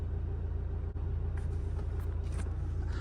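A camper van bus drives along with a steady, loud low engine drone and road rumble that stays even throughout, heard from inside, with no talking.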